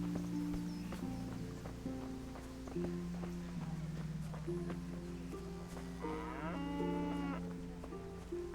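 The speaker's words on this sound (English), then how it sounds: "Cow is a little close." A cow lowing in a series of long, drawn-out, low moos, one after another over a steady rural background, with a few faint clopping sounds mixed in.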